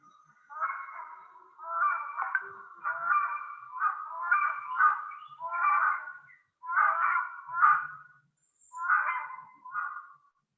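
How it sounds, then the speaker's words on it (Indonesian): Rhinoceros hornbill calls played from a recording, a series of about nine loud, honking, nasal bursts in a steady rhythm, each call distinct and close, with no talk over them. "saya coba sedikit satu lagi suara burung enggang cula yang sering juga didengar"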